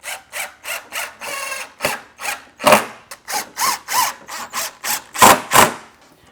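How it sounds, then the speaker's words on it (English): Wood screws, 8 by 1¼ inch, being driven to fix a front piece to a workbench: loud, close, rhythmic bursts of ratcheting and whirring, repeated in quick succession, with no talking. "what I'm going to do is I'm going to attach it to the workbench using 8 by"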